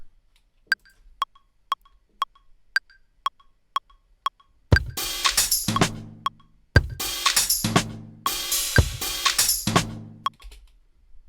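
A sparse metronome-like click ticks evenly, then a loud electronic drum beat played in Ableton Live 12 kicks in with punchy hits and cymbals, stopping and restarting in bursts.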